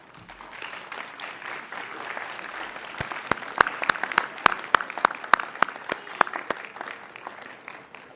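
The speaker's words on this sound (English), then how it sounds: "invite you to turn and applaud the parents, the family, and the friends who have supported you" Commencement crowd at a university fall undergraduate ceremony breaks into sustained applause, a dense wash of many hands that swells after a few seconds with sharper, louder claps standing out near and steady to the end.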